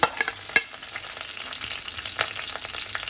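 Hot oil sizzles steadily over a low flame with green chilli, curry leaves and asafoetida crackling, broken by a few sharp pops and scraping stir strokes, close up with no talking.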